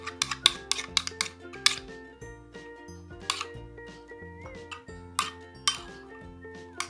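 Homemade crunchy slime with beads being mixed in a bowl, giving quick clicking, clinking crunches in irregular bursts over a faint musical background.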